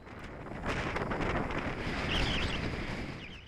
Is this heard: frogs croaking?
no